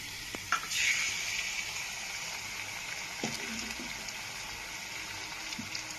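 Eggs and potatoes fry together in a pan, a faint, even sizzle running throughout with a couple of soft utensil knocks and scrapes.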